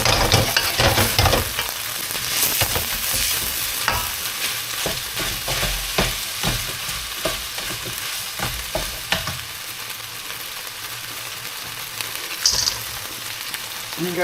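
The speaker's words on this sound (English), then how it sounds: "Sealing in the beef." Beef sears and sizzles in a hot pan for special fried rice alongside mushrooms, a loud continuous frying hiss with clattering stirring strokes throughout.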